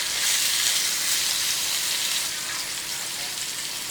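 Nethallu fish fry in oil over a low flame, making a steady, loud, close hiss and sizzle that carries through the whole stretch with no talking.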